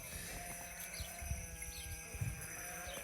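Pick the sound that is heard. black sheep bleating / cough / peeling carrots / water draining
black sheep bleating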